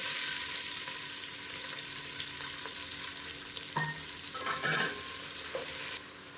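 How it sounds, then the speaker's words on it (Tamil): Sliced large onions frying in hot oil with spices for mutton biryani, giving a steady close sizzle throughout, with a few clinks and stirring scrapes of a ladle against the pan partway through. "இப்போ இரநூறு கிராம் அளவுக்கு பெரிய வெங்காயம் நீளமாக நறுக்கினதை சேர்த்துக்கலாம்"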